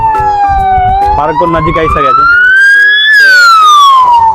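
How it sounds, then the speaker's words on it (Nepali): An ambulance siren on a Malaysian highway wails loud and close, its pitch sweeping slowly up and down over steady traffic noise, while someone talks over it. "पहिला एम्बुलेन्स गइरहेको छ"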